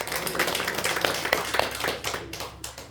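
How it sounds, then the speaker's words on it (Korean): Church congregation at a thanksgiving worship service claps together, with distinct individual hand claps standing out over a softer wash that fades toward the end. "하나님께 감사의 박수 드리겠습니다"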